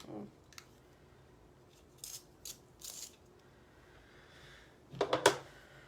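Several short scraping, grinding twists of an eye pencil being sharpened sound in separate bursts, quiet at first and then louder and quicker near the end, with no talking.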